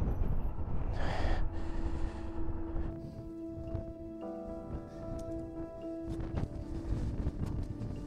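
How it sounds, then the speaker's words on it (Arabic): Strong wind roars and buffets the microphone outdoors along the Rommel road, a continuous rough rumble with gusts that swell and ease, plus a thin steady whistling tone partway through. "برشا ريح."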